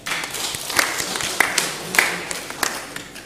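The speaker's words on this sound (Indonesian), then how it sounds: "Maka tepuk tangan untuk mereka." Scattered clapping from a congregation honours the builders during a Eucharist celebrating the inauguration and blessing of a new retirement home, with uneven claps rising and thinning over a few seconds at moderate distance.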